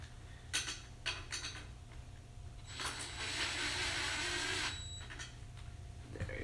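Small screws on an Elation Opti Tri Par stage light's power supply and yoke being tightened, heard as a few short, close mechanical clicks and scrapes, then a longer rasping stretch of turning, with no talk.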